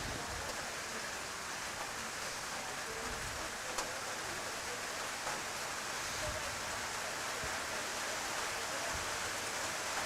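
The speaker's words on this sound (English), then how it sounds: "You can hear the rain on the roof above us." Heavy rain drumming steadily on a roof above an outdoor croquet interstate tournament venue, a constant loud hiss with occasional faint knocks underneath.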